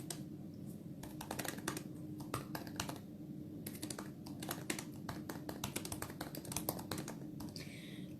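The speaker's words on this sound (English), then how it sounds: "as I type on my laptop" Rapid, uneven typing on a laptop keyboard, close up, with many sharp key clicks in quick bursts and brief pauses over a steady low room hum, no voices.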